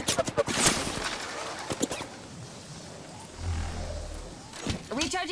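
Gunshots from Apex Legends gameplay: a quick burst of sharp shots near the start, a few scattered pops, then a low rumble and renewed firing near the end, with game announcer voice lines around it.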